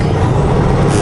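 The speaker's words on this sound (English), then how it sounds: "Sucker truck" A vacuum truck engine runs steadily and loudly nearby, a constant heavy rumble with a broad roaring hiss.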